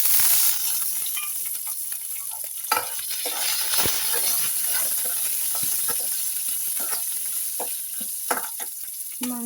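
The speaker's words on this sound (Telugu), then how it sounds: "ఇందాక మనం పచ్చిమిర్చి ఇది కూడా కొంచెం రోస్ట్ చేసుకుందామండి ఈ ఆయిల్లో." Green chillies roast in hot oil with a steady, bright sizzle, broken by occasional scrapes and clinks of a stirring spoon.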